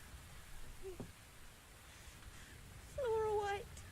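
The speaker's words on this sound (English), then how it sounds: "Could I persuade you to come out of the rain, Flora?" Steady rain falls in the VR mystery game The Invisible Hours, a faint, even hiss throughout, with a brief voice heard near the end.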